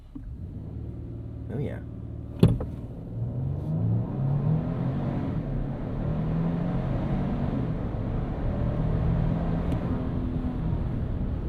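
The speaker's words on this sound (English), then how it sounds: "let's turn off our auto stop start and do a bit of a brake torque here" A 2025 Nissan Armada Pro-4X twin-turbo V6 SUV revs during a brake-torque launch, with a sharp bump followed by a rising, steady engine rumble heard from inside the cabin, where someone speaks briefly.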